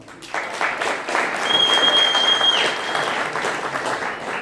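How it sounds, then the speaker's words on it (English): Steady, dense applause from a crowd at a Rhode Island business league anniversary event rises quickly and sustains evenly, with a brief whistle riding over it midway. "So I want to give you a round of applause and thank you for coming"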